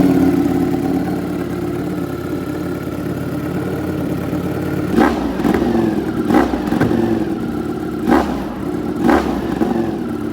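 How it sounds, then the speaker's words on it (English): Ducati StreetFighter V4S motorcycle fitted with a titanium SC-Project exhaust, idling with a steady low rumble before a series of sharp throttle blips and revs in the second half. "Doing my first ride with the new exhaust."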